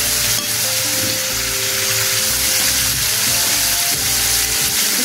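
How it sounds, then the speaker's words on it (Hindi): Ginger garlic paste frying in a pan for mutton korma, giving a loud, continuous close sizzle with no break throughout. "अब हम अदरक लहसुन का पेस्ट डालेंगे।"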